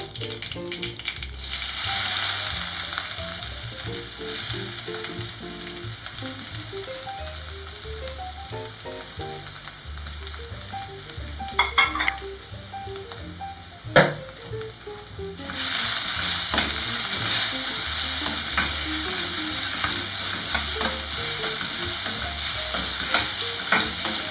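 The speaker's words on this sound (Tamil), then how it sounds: "இந்த மாங்காய் இஞ்சியை எண்ணெயில ஒரு 2 நிமிஷம் அளவுக்கு நல்லா வதக்கி எடுத்துடலாம்." Grated green mango ginger frying in hot oil with curry leaves, giving a steady loud sizzle that is softer in the middle as a spoon stirs and scrapes the pan, then strong again.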